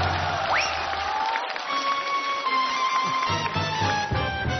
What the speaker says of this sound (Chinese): 掌声热烈一点，亲爱的朋友们。